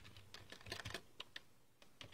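A computer keyboard is tapped in quick, irregular bursts of keystrokes with short pauses between, faint and close, with no one speaking.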